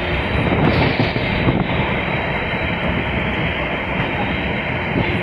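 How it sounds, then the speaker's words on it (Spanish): A GR12 locomotive on the Sarmiento railway's Merlo to Lobos branch passes the Bicentenario level crossing, a loud, close, continuous rumble of wheels and wagons with some wind noise and no talk. "Locomotora GR12. El paso a nivel de Bicentenario"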